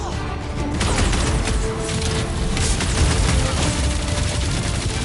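Continuous dense blasts and crackling gunfire-like explosions, called fireworks, rage loudly in a Guardians of the Galaxy action game, a sustained roaring barrage with no pauses.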